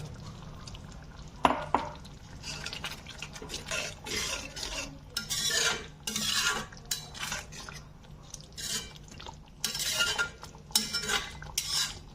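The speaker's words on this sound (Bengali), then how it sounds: "এখন আমি পনিরগুলো দিয়ে দেব।" Paneer goes into butter paneer curry in a pan, followed by repeated stirring: close rhythmic scrapes and clinks of a utensil against the pan over a faint low hum.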